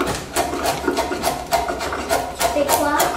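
A wood chisel shaving a curved piece of timber, giving repeated rasping strokes at a steady working pace, close by, with a voice speaking briefly in the background.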